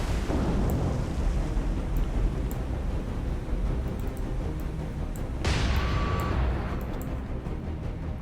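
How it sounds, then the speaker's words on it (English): A torpedo hits an enemy warship in the naval combat game War on the Sea, a dense roar of water and blast noise that surges sharply midway and holds steady throughout, with no talk. "he was struck by a torpedo"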